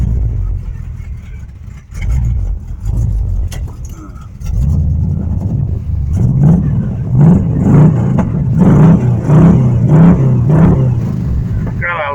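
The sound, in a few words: Omega car engine running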